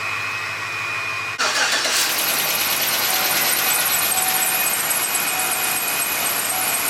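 A Chevrolet Tahoe engine cranks briefly and catches, then settles into a loud steady idle close by with a high whine over it, no voices.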